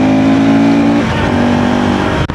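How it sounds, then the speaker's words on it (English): A KTM 390 Duke motorcycle with a Stage 2 air filter revs at full throttle, loud close engine roar with strong airbox induction noise, rising then steadying before cutting off sharply. "let's listen to some airbox noise. So then I'm gonna give full throttle."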